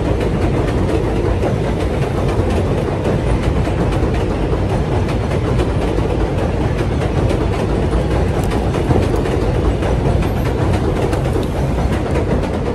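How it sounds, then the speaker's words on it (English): A number 7 subway train in Woodside, Queens, New York rumbles past nearby, a constant heavy roar with rattling wheels throughout, loud and unbroken. "that's the number 7 train."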